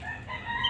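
Backyard chickens make a brief, close clucking call, a short burst of hen vocalising with nothing else audible.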